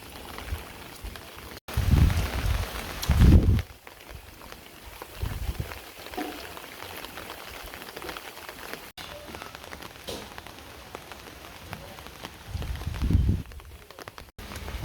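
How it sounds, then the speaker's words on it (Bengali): Heavy rain pours down around a house, a steady dense hiss of drops striking surfaces throughout, with a few deeper rumbling bursts near the start and end; no one speaks. "এমন বৃষ্টি এই যে বৃষ্টির অভাব নেই"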